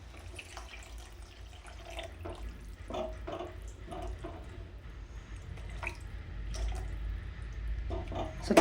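Water trickles into tomato thokku cooking in a pan, giving a soft, irregular splashing and dripping over a low steady rumble.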